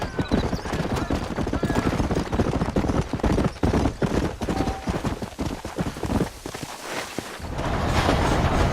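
Horse hooves clip-clop steadily and close, a continuous rhythmic trot running throughout with a whinny and distant background rumble, in Red Dead Redemption on Xbox One.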